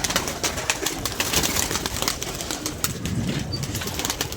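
Pigeons take off and fly, their wings flapping in a dense, fluttering burst with soft cooing mixed in, heard fairly close and continuous.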